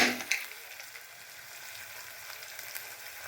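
Water spinach (kalmi shak) fries with whole chilies in a pan, giving a soft, continuous sizzle, with a couple of brief stirring scrapes at the start before it settles into a gentle hiss.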